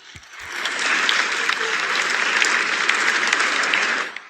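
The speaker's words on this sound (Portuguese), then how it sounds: "Várias vezes em que Lula falou e foi aplaudido" Sustained audience applause following a speech by Lula at the United Nations General Assembly, dense and steady clapping from a large hall that swells in quickly, holds for about four seconds, then cuts off.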